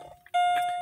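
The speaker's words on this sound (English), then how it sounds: "Sorry for the beeping." A single steady electronic beep sounds loud and close, holding for about half a second after a moment of quiet.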